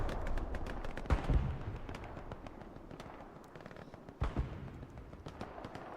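Rocket and gunfire in the World War II shooter Hell Let Loose during a competitive match on Foy, with distant rapid crackling shots and a couple of heavier booms, fairly faint and continuous.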